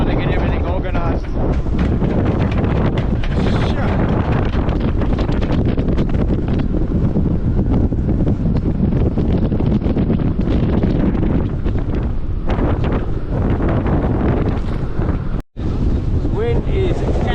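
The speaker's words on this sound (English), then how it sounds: "Wind is absolutely howling." Gale-force wind gusting past forty knots howls around a Balance 526 catamaran at sea, a loud, constant roar buffeting the microphone, with a voice faintly buried under the noise.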